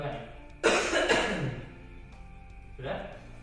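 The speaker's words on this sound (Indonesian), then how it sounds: "Pertama dulu, tarik nafasnya, batukkan Pak." A patient gives a hard cough during effective cough training, followed a couple of seconds later by a second, weaker cough, heard close up.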